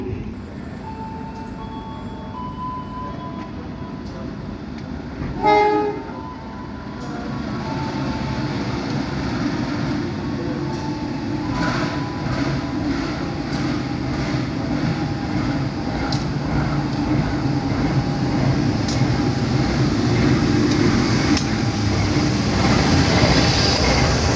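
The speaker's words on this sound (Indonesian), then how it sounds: "Ini dia kereta api Tawang Alun sudah masuk di jalur status stasiun Pasuruan." Tawang Alun passenger train pulling into Pasuruan station in East Java, a steady low rumble of rolling wagons building gradually over the clip, with a brief clank near the start and a faint squeal above the rolling noise.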